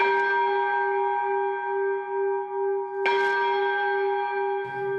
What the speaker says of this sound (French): Elle est de 1766, gravée donc sous le règne de Louis XV de Bien-Aimé Roi. Et cette cloche, elle est assez incroyable